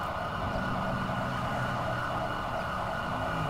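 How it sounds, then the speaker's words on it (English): Fire truck and ambulance sirens from emergency vehicles arriving in GTA 5 wail continuously and steadily at moderate level, blended with vehicle rumble and no talk. "Alright, here comes our fire trucks. Oh, we have an ambulance coming too."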